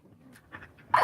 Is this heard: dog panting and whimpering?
yes